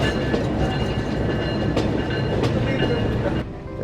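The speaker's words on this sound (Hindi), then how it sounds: "तो ये वॉशिंग लाइन के पास से गुजर रही है गाड़ी हमारी" The Safari train of Pakistan Railways running on the rails near a washing line, a loud, continuous rumble of wheels with occasional sharp clacks at the rail joints, dropping slightly near the end.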